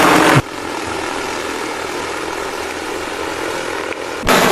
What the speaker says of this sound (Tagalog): Andun na yung drone, oh.